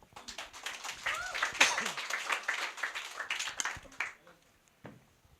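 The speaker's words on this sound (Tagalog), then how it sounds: "Palakpak po kay Lord." Church congregation clapping for the Lord during a New Year sermon, a moderately loud burst of scattered applause mixed with voices, tapering off after a few seconds.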